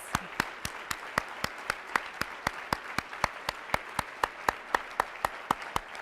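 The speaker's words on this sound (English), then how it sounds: "Let's give them a round of applause." Audience at a NACTO opening plenary clapping in a steady, evenly spaced rhythm, each clap sharp and distinct, moderately loud with no talking.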